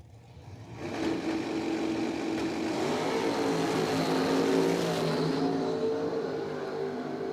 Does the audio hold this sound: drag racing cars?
yes